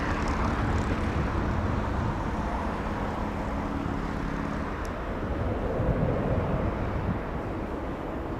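A jet airliner taking off from Los Angeles International Airport roars steadily and broadly, a constant loud rush with a low droning hum that shifts partway through as it climbs away.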